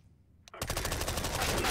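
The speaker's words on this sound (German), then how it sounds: "Also eine Krüppelwaffe, die MP5." MP5 submachine gun firing in CS:GO, a continuous rapid burst of loud automatic shots following a brief click, sustained to the end.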